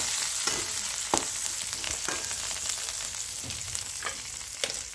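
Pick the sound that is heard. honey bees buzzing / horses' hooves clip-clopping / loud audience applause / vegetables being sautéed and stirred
vegetables being sautéed and stirred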